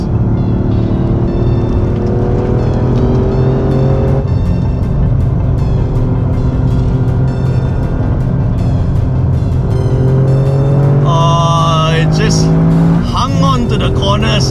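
A Toyota GR Yaris races around the Sepang circuit, its engine roaring loud and close with rising and falling revs through gear changes and braking, while someone talks over the noise.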